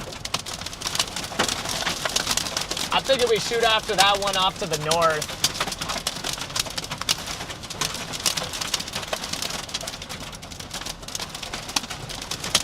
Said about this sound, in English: Crazy wind-driven hail.